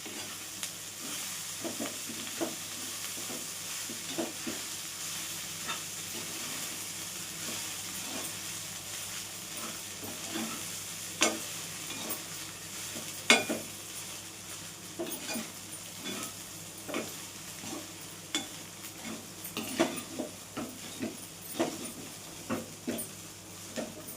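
Poha, soaked flattened rice, is stirred in a pan on low heat, with a soft steady sizzle under repeated light scrapes and taps of a spoon against the pan.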